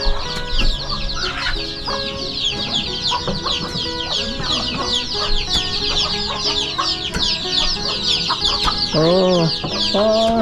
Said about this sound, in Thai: ไก่น้อยหลายเนาะ